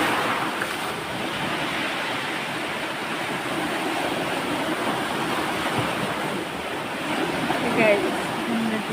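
Ocean surf breaking on shore at a spearfishing spot, a steady loud wash of waves and churning water filling the scene with a slight swell near the end.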